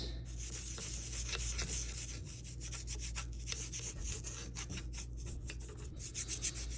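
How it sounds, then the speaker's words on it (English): A cloth or pad rubs wax into old wrinkle-finish paint in steady back-and-forth strokes. The scratchy friction is quiet and close, with a low hum underneath. "I work it in there to help loosen that wax"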